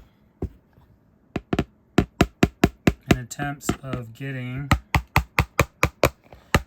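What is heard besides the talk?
small hammer tapping a bowl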